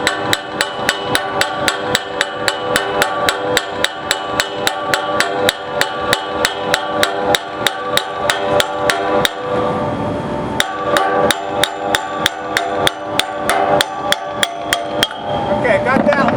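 Rapid metallic hammer taps strike around a 7.5 HP supply fan motor on an air handler to loosen it, dozens of sharp, evenly spaced blows ringing up close, with a short pause before tapping resumes.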